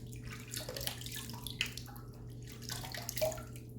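A shaving razor is rinsed under a running tap, giving a steady close flow of water with dripping and splashing throughout.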